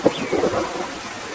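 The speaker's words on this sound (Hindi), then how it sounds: "पता नहीं ये बारिश कब रुकेगी।" Steady rain with a low rumble of thunder falls in a Hindi cartoon about a little bird whose nest is washed away by floodwater. The storm sounds loud and close, with no voices.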